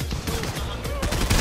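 Rapid gunfire in a Fortnite squads match, a quick burst of sharp close shots in fast succession, loud and dense over its brief length.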